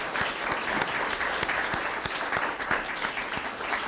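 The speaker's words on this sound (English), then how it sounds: "Please join me in giving all of our candidates a round of applause." Audience at a college candidate forum gives a round of applause, steady dense clapping from a modest room crowd with a few sharper individual claps, no speech over it.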